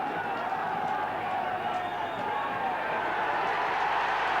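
Maesteg rugby fans applaud their team at a home match against the New Zealand Maoris, a dense, steady wash of crowd clapping and noise from a stadium, with a commentator talking over it.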